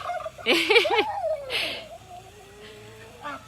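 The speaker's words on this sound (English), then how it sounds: "if you gobble like a turkey will gobble back" A turkey in a chicken coop gobbles back at close range in a quick warbling burst, followed by a thinner trailing call and a faint short sound near the end.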